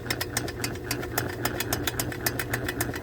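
Motor of a Vevor drain auger running steadily at low throttle, a close mid-pitched hum with a fast regular ticking beat throughout, no talking.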